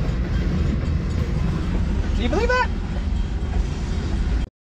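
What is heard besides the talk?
train passing by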